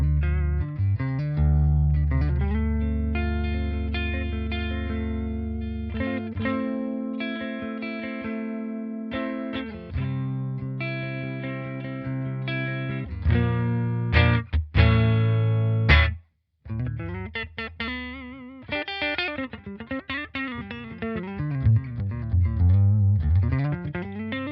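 Electric guitar played through the clean channel of a Blackstar St. James EL34 50-watt combo amplifier, chords and single notes at varying volume, ringing and sustained with a brief pause near the end, no talking.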